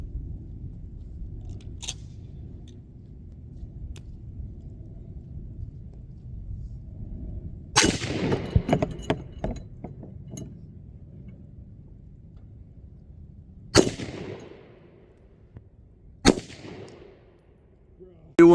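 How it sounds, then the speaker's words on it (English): Rapid gunshots strike a steel plate at a shooting test, with loud sharp cracks and ringing clangs arriving in a quick burst and then a few separated single shots, over a low outdoor rumble between them. "I'm gonna shoot it as quick as I can"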